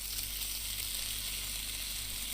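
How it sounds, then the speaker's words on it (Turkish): Salmon fries in a pan in the Cooking Simulator video game, giving a steady, even sizzle that stays faint and unbroken, with no talking. "Tamam somon kızarıyor"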